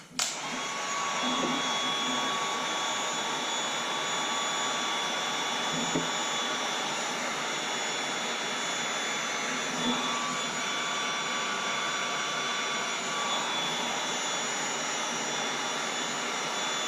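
A fairly new heat gun running continuously in a workshop, used on an LED turn signal job for a Yamaha TW200 motorcycle: a loud, steady blowing roar with a faint whine, close and unbroken, with no talking.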